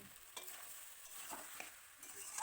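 Mutton for a curry being stirred and fried with masala in a pan, with faint, steady sizzling and a few soft scraping stirs spread across the stretch, with no voices.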